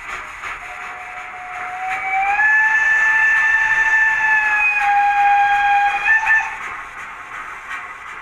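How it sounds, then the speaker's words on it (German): A PIKO TT-scale model of a class 55.1 steam locomotive gives its long steam whistle sound effect, a sustained multi-tone whistle about four seconds long, loud and close, with the tone shifting partway through and no talk over it. "F4, Dampfpfeife, lang."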